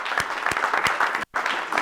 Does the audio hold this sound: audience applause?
yes